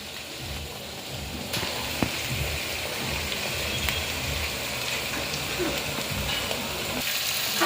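Capsicum frying in a pan while making egg rice gives a steady, close sizzle with a few brief stirring clinks, continuous throughout and no talking.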